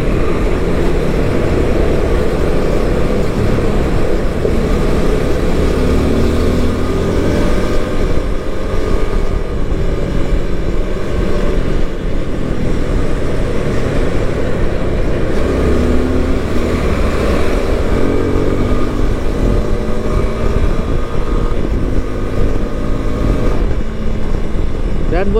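Suzuki V-Strom 250SX motorcycle engine running steadily through the revs while cruising, a continuous low drone with mild rises in pitch, loud and close throughout with wind noise over it.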